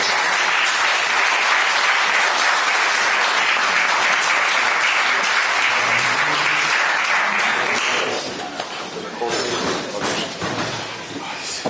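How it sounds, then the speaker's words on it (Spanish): An auditorium audience at a book presentation applauds loudly and steadily, the clapping thinning toward the end as voices and scattered movement take over. "Nos despedimos de Curro y de Germán con un aplauso por todos."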